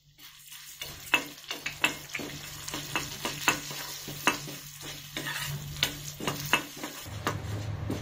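Urad dal fries in a pan for coriander thokku while a spoon stirs it, giving a bed of soft sizzling broken by regular sharp scrapes and clicks against the metal, close and unaccompanied by speech.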